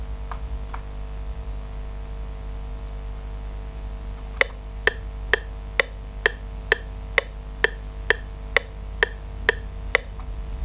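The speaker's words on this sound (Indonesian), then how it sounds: "Kita coba dengerin dulu ya metronomnya." A metronome ticks steadily in 3/4 time, sharp clicks evenly spaced, starting after a few quiet seconds over a faint background hum.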